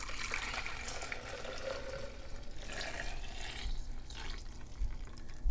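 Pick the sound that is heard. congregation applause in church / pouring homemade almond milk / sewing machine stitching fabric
pouring homemade almond milk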